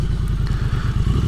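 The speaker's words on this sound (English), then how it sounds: "First pro is the sound. The stock exhaust is great." A 2022 Triumph Street Twin 900 motorcycle with its stock exhaust runs on an evening ride, giving a loud, deep, steady throbbing rumble with a rapid pulsing beat and wind rush over it.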